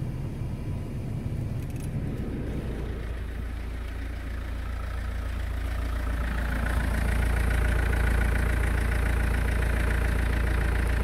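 A car engine idles steadily with the air conditioning switched on, a continuous low rumble with a faint whir that swells slightly louder toward the end, heard close up with no talking.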